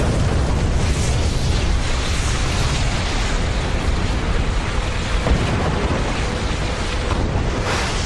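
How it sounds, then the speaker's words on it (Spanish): Deep, continuous roar of the Mount Toba volcanic eruption in Southeast Asia, a dense rumbling wall of sound holding steady and loud throughout with no pauses. "La erupción del Monte Toba"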